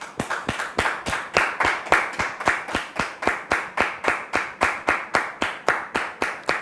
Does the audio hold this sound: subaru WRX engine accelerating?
no